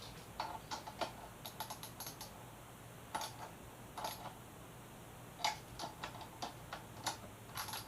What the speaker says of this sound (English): Just turn them down by hand first, and then we're going to wrench them on.